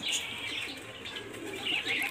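Pigeons at a large pigeon flyer's loft in Bauria give soft cooing and fluttering calls, with a few brighter chirps, close by and moderately loud, with no one talking.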